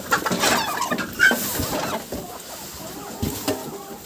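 Backyard chickens clucking close by in short, irregular bursts, with a few sharper squawks and scattered softer murmurs between them.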